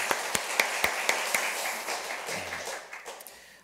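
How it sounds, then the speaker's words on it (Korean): Scattered claps from a church congregation during a Sunday worship service marking the church's second anniversary, a few distinct sharp claps at first, then a soft, thin smattering that fades out. "하나님께 우리 박수로 감사와 영광을 올려드렸으면 좋겠습니다"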